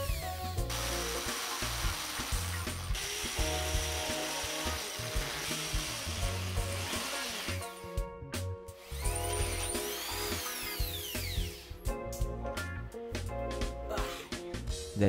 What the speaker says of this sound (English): I drill holes to the wall to mount the L bracket for the table support.